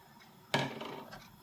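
Broccoli stalks tipped into a cooking pot for broccoli and Stilton soup make a single sudden clattering splash with a bright rattle, then a short settling spill that fades over the next half second.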